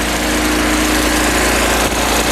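An MG TD car engine idling with an exhaust leak, a loud, harsh, rapid chuffing rattle that runs steadily and close without pause.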